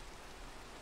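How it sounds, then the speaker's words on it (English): Steady, dense hiss of rain falling in the Minecraft video game, a continuous even wash of sound with no voices over it. "Oh, it's raining."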